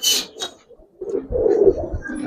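A Giribaz pigeon gives a short, close coo after a brief flutter, alone and fairly quiet.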